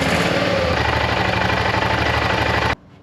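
BMW F650GS Dakar motorcycle engine running while warming up to operating temperature: a loud, steady, rapid single-cylinder chug heard close up, which stops abruptly just before the end.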